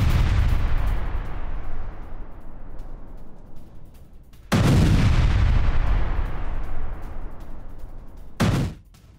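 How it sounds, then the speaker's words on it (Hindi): Heavy explosions from IDF bombardment of residential areas in southern Lebanon, Sidon: three loud, booming blasts, each followed by a long rolling decay, the last cut short. "दक्षिण लेबनान में आईडीएफ की बमबारी, सडोन के रिहायशी इलाकों पर हमला, धमाकों के साथ कई इमारतें तहस नहस हो गई।"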